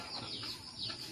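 Chickens of the Basilan breed kept at a family house in the Philippines: soft, continuous clucking and murmuring from a few birds nearby, fairly quiet and without talking.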